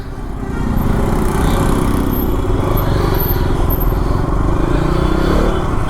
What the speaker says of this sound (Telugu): మన పాత డ్యూక్ 200 ఉంది కదా, సో దీని మీద అయితే వెళ్తున్నాను అనమాట